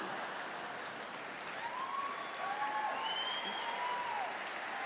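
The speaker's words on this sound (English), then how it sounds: "I just love comedy like this, where everybody's just clapping all the time." A comedy show audience claps steadily at a moderate distance, with some whoops and high cheering calls rising above the applause.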